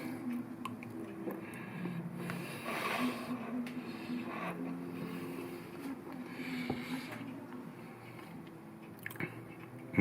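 Someone eating a slice of New York-style baked cheesecake, with soft, close, moist chewing and biting sounds running steadily and quietly, with no talk.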